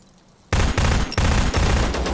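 Automatic gunfire in the survival shooter ZERO Sievert, loud sustained bursts starting abruptly after a quiet moment, with brief gaps between sprays, close and dense with no talk.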